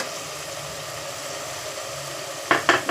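A pan of frying ingredients gives a steady, fairly loud sizzle over a low hum, then ends with a few sharp scrapes or knocks of a spoon against the pan.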